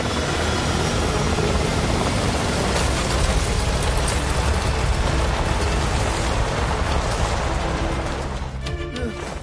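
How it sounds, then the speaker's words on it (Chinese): An animated cartoon airplane making an emergency landing, a loud continuous engine roar filling the scene, steady and close before easing off slightly at the end. "有飞机需紧急降落，大家先有序撤离至"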